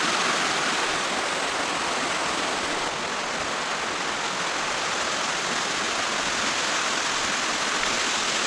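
Mae Kampong Waterfall in Chiang Mai roars steadily, a dense, loud, unbroken rush of falling water that fills the whole stretch with no voices.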